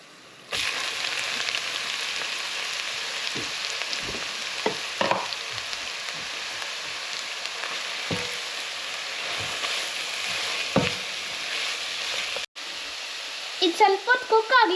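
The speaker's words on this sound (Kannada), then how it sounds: "ಇವಾಗ ನಾನೀಗ ಕ್ಯಾರೆಟ್ ಹಾಕ್ತಾ ಇದ್ದೀನಿ." Carrots added to a hot pan with browned ingredients fry in a steady, loud sizzle for the whole stretch, with a few stirring knocks and clatters near the end, part of a Kannada home recipe.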